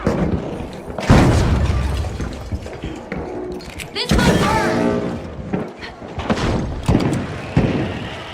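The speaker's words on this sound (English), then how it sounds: "Throw a grenade." Grenade blasts in the arena shooter The Finals: several loud, heavy booms with rumbling tails and debris crashing, spread across the scene amid other game noise and an announcer-style voice talking.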